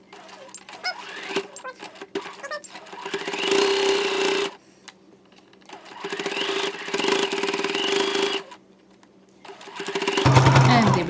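A sewing machine runs a straight seam across a cotton face mask in three sustained whirring runs separated by short pauses, close and fairly loud, with a person speaking around the stitching.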